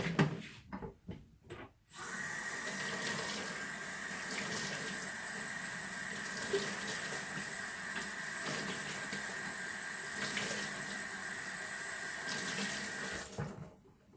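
Tap water runs steadily into a kitchen sink while a sponge is rinsed, with a few splashes and squeezes before the continuous stream starts and it cuts off near the end.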